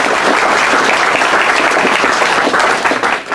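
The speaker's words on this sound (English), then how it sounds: "A round of applause for Gaby." An audience at a university law faculty lecture gives a round of applause for Gaby Ritchie, loud and dense clapping that holds steady, then begins to thin out at the end.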